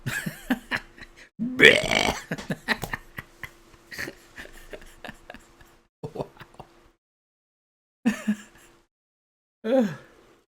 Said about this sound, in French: C'est super ça, ce gros rot là.